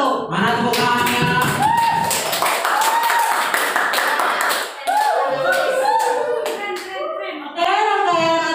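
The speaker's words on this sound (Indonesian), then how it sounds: "Mari kita berikan tepuk tangan yang meriah untuk kelompok 1." A group claps hands in bursts of lively applause after a group presentation, with cheering voices and chatter mixed in between the rounds.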